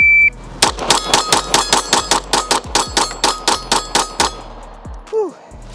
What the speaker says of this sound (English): put 17 rounds downrange as fast as I can